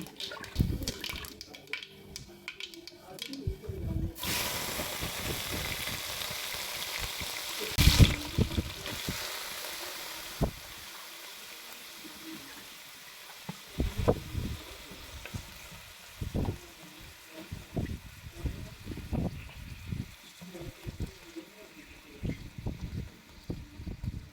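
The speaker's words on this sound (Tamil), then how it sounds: "எண்ணெய் நல்லா காஞ்சதுக்கப்புறமா கடுகு போடுங்க. கடுகு பொரிஞ்சதுக்கப்புறம்" Mustard seeds spluttering and crackling in hot oil in a pan while making chicken kulambu gravy, a dense, steady sizzle with scattered sharp pops, close and fairly loud, with no talking.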